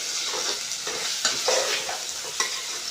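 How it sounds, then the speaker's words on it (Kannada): Ginger-garlic paste frying in a pan for vegetable biryani, a continuous bright sizzle broken by several scraping stirs of a spoon, close and alone without any voices. "ಈಗ ನೋಡಿರಿ ಚಲೋ ತಂಗಿ ಫ್ರೈ ಆಗೈತ್ರಿ"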